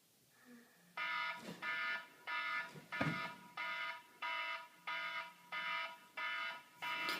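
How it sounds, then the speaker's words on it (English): An iPhone alarm clock ringing with a repeating electronic tone, about nine evenly spaced beeping bursts after a soft start, clear and close. "it functions as an alarm clock"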